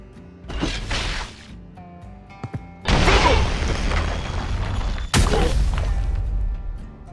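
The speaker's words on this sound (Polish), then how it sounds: "po drugiej stronie ściany następuje eksplozja, która rani pobliskich graczy" Three heavy booming blasts with crackling debris, the first smaller and the next two loud and sustained, from an agent ability exploding behind a wall in Valorant.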